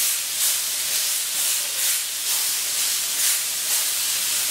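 Beef chuck steak with a spice crust sizzling on a barbecue grill as it is flipped, a steady, loud, bright hissing sizzle that swells and eases slightly throughout.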